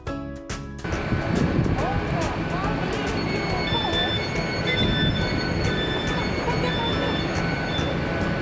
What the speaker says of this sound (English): Our train has come!